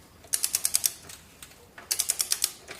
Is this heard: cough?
no